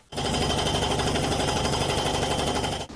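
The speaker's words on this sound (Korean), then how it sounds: "2달이 지난 지금도 밤마다 땅에 말뚝을 박는 공사는 계속되고" Pile driving at a Honam Line railway tunnel construction site in Daejeon's Boksu-dong, heard as a loud, continuous rapid hammering that starts abruptly and stops after about three seconds.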